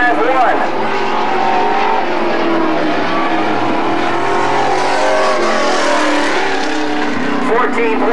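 Number 7 race truck on a qualifying lap, its engine roaring loudly and continuously as it speeds around the track, with announcers talking over the noise.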